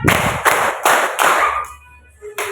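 A class of students clapping hands in a four-beat pattern, four loud, close, evenly spaced claps followed by a brief pause and one more clap, with no talking.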